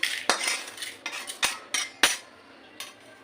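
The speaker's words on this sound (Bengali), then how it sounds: "মশলাটা ভাজা হয়ে গেছে বাটির মধ্যে ঢেড়ে নিচ্ছি" A metal spoon scrapes and taps against a bowl in a quick series of sharp, close clinks, then one last scrape after a pause.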